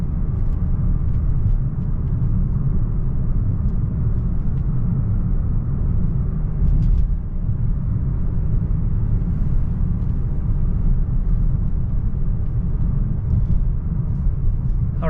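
A 2018 Mazda3 Grand Touring drives and accelerates, heard from inside the cabin as a continuous low engine and road rumble, steady and fairly loud with no break.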